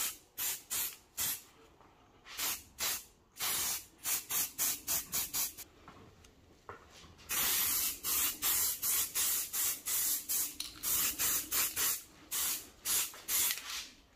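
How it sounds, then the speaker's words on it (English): Short bursts of spray paint hiss from a can onto small Aprilia RSV Mille motorcycle parts, a quick run of brief puffs followed by longer sustained sprays, close up. "start spraying these little bits first and around these edges"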